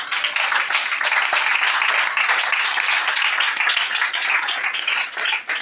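A church congregation applauding Jesus Christ: sustained, dense clapping from many hands, loud and steady throughout, fading slightly at the very end.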